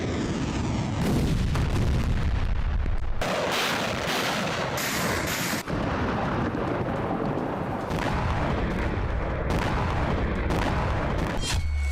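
Artillery strikes and explosions pound Crimea, with repeated heavy booms and bursts of gunfire-like blasts rolling through a dense, loud barrage.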